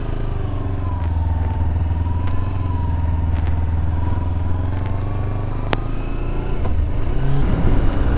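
Suzuki V-Strom 650 motorcycle engine humming steadily while riding, a loud continuous low drone with wind rush and faint tonal whine, rising slightly near the end.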